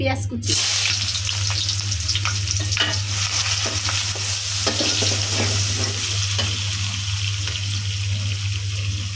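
Dal tempering (phoron) frying in a pot while being stirred, a loud continuous sizzle with spoon scrapes, a low steady hum beneath, and no talking.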